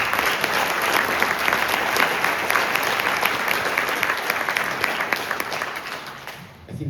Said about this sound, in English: let's give all of you a round of applause for making this happen